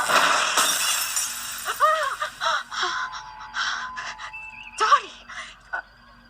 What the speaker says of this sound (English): she ends up smashing a glass and cuts herself